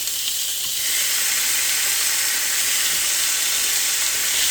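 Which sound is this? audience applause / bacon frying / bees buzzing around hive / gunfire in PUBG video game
bacon frying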